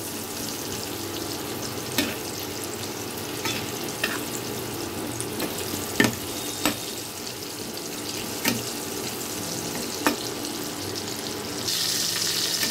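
Potato pieces frying in oil in a pan until browned, with a steady broadband sizzle throughout and occasional sharp spatula scrapes and stirs; no talking.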